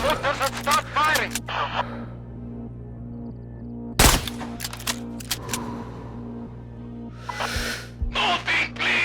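Gunfire in Sniper Ghost Warrior 3 rings out in short sharp bursts over a steady low in-game hum, with a loud crack midway and more shots near the end, interleaved with shouted voices.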